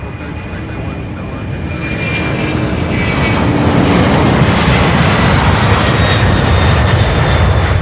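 Jet engines spool up for takeoff at Louisville International, the roar swelling over the first few seconds and then holding loud and steady.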